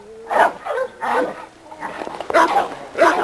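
A young dog about seven months old at a dog yard barks in four or five loud, close bursts with short pauses between them.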